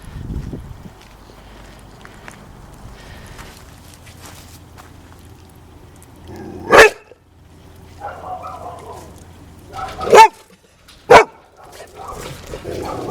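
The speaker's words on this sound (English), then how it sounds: "I've never seen a dog that would bark at itself before." A dog barking outdoors during an urban walk, three loud sharp barks spaced apart over soft background noise and footsteps, with a person talking quietly at times.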